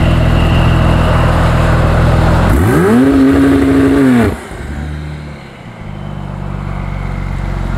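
An 850 hp tuned Porsche 911 Turbo pulls away at a dragstrip, its engine note climbing in a sharp rising whine over a few seconds and then cutting off abruptly, leaving a lower rumble and background noise.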